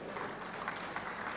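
A seated audience at an awards ceremony in Sri Ganganagar claps in a dense, even burst of applause, moderately loud and filling the hall for a short stretch with no voices over it.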